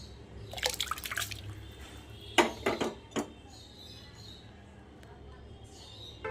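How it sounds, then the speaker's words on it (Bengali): Soaked basmati rice tipped into water in a saucepan for jeera rice, giving a short cluster of wet drips and splashes, then a few louder plops, all fairly close over a quiet kitchen background. "এবার এটা আমি জলের মধ্যে ছেড়ে"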